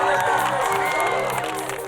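Outdoor audience cheers and whoops for BMX bicycle stunt riders, a loud dense wash of shouting and clapping with a voice cutting through the noise.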